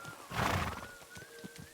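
A horse in a medieval video game lets out a whinny with a rising, wavering neigh, followed by a few soft hoof clops, quiet and close with faint game ambience.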